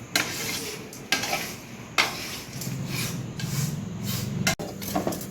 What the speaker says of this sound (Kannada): ಈ ಕಡೆ ಸೈಡ್ ನನ್ನ ಮಗಳು ಅವಲಕ್ಕಿ ಹುರಿತಾ ಇದ್ದಾಳೆ